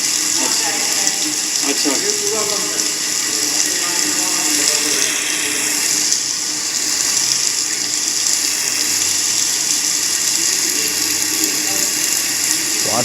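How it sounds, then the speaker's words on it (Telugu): Water seeps in continuously from all sides inside a collapsed tunnel during a rescue operation, making a loud, steady gushing wash. Someone speaks briefly over it. "వాటర్ వస్తూనే ఉన్నాయి కంటిన్యూస్గా చుట్టుపక్కల నుంచి."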